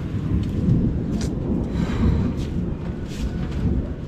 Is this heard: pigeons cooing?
no